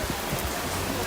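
Rain falls on the open savanna of Kilimanjaro Safari at Disney's Animal Kingdom in Florida, a dense, even hiss that fills a brief moment without breaks.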